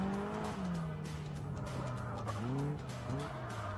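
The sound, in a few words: Caterham race car drifting on track at Brands Hatch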